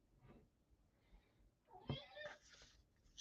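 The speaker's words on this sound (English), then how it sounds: "Shut up, Kitty" A cat meows a couple of times, fairly close, with a brief sharp sound just before, amid quiet room noise.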